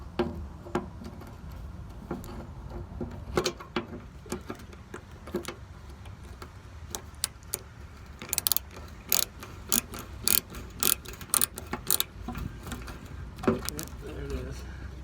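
Ratcheting wrench backing out the final bolt holding a vehicle fender, a quick run of sharp metallic clicks and taps, mostly clear and close, with brief clinks of the loosened bolt.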